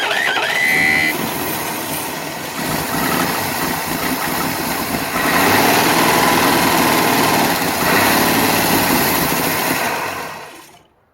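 A revived 1961 Studebaker engine runs loud and rough in a shop, revving and idling for about ten seconds before cutting off abruptly at the end.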